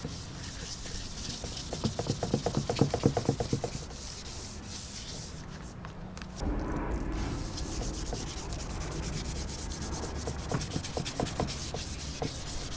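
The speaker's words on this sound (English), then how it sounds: "We're going to be roughing up the surface with a 500 grit sandpaper, get all the oxidation off." Steady abrasive rubbing of 500 grit sandpaper across an oxidised plastic car headlight, a continuous close scratchy sanding texture with quick back-and-forth strokes that shift in tone partway through.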